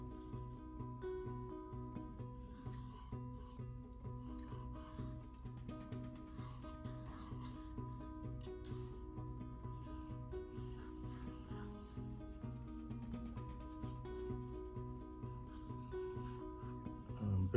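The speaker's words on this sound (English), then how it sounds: "I just start scratching lines until I get the proportions that I want" Graphite pencil scratching sketch lines on paper while roughing out a stick-figure Pinocchio, a steady, close, continuous rubbing texture alone with no talk.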